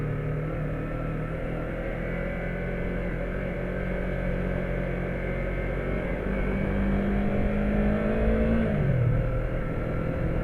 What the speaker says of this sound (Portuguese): não espera nem o sinal abrir, já vai acelerando